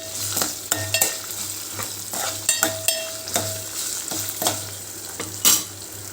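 Ginger garlic paste and chillies fry in a pan for a mint chutney, with steady sizzling broken by repeated scraping stir strokes and clinks of a spoon, close and fairly loud, no voices.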